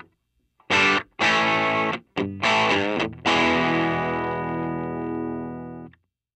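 Distorted electric guitar plays a riff: a few short chopped chord stabs, a quick choppy run, then a big sustained chord ringing out and fading, loud and alone with no talking.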